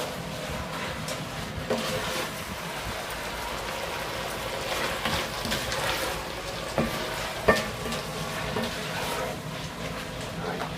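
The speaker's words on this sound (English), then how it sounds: "I'm going to let this cook down a little bit" Collard greens with garlic and black pepper cook down in a pot, giving a steady soft sizzle and bubbling hiss with a few faint stirring clinks throughout.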